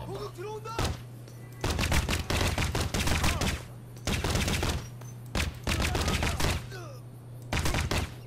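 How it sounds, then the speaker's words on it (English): Rapid bursts of gunfire in the Crysis video game, several clusters of sharp shots over a constant low hum, loud and close, with no talk. "Okay, I'm gonna go single shot. It's kind of like sniping."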